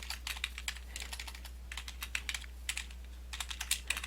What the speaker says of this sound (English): I'm going to click the center text box and I'm going to type in Trip